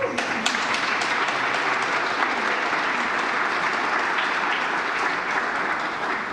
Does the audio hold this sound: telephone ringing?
no